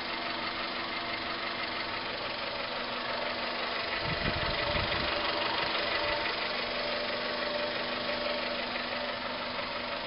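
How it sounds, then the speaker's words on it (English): A 1996 Honda Civic DX engine with a ram air intake idles steadily nearby, a constant mid-pitched hum with a light knocking texture and a brief low rumble swelling midway through. "Your basic Honda Civic motor, the ram air intake"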